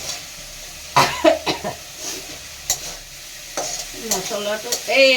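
Masala fries in hot oil in a pan as a spoon stirs it, soft sizzling under several close scraping strokes and clinks, with a cough or throat sound mixed in.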